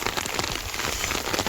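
Heavy rain pours steadily onto rooftops in a village, a dense, even hiss of countless drops with no voices.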